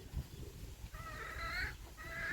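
Chickens cluck softly at dusk in a rural Thai setting, a few drawn-out calls over low background rumble, faint and fairly close.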